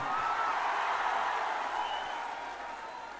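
Audience applause at a Waqf bill protest rally at Gandhi Maidan, a dense, steady wash of clapping from a large seated crowd, loud at first and slowly fading.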